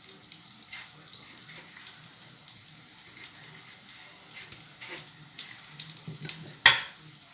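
Breaded escalope frying in a pan gives a low, steady sizzle with occasional faint clinks and stirring noises, ending in a brief sharp clatter near the end.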